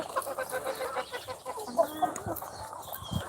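Farm chickens cluck and chatter continuously in a close, busy mix, with short higher calls rising over the steady flock noise; no one speaks.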